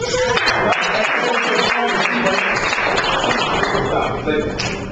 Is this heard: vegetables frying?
no